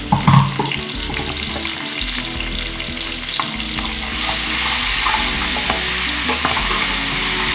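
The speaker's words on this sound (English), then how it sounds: "Now we'll add garlic and ginger paste to our mixture." Golden-brown onions frying with garlic and ginger paste for mustard-leaf saag hiss and sputter loudly, with a few stirring knocks early on and the sizzle growing brighter and denser partway through, no voices.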